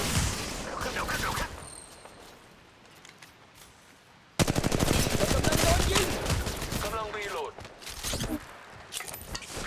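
Automatic gunfire rattles in Apex Legends Mobile as the player takes hits, starting with a sharp burst, then a quieter lull, then sustained loud rapid fire with other in-game effects over the final half.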